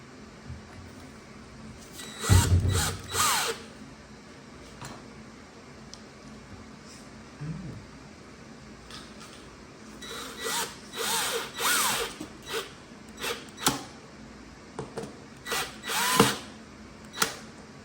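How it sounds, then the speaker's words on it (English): A power drill whirs in short bursts, driving screws into a flat-pack IKEA Kleppstad wardrobe unit, with a strong burst early and a run of quicker spurts later, separated by quiet handling. "I'm breaking the rules by using a drill"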